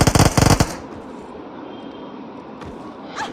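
A quick burst of automatic gunfire from the BGMI mobile game crackles loudly for under a second, then fades into a quiet ambient hiss with a faint distant pop.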